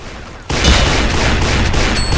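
Rapid revolver fire in a video game bursts in suddenly after a quiet start, a dense, loud stream of overlapping shots and booms that holds steady to the end.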